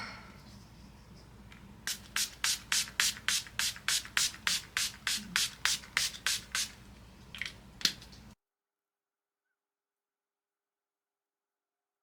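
Rapid run of about fifteen short, sharp hisses from a pump sprayer of Ioni Energizing Glow Mist setting spray misted onto a face, close and even in rhythm, followed by a couple of stray spritzes and then silence.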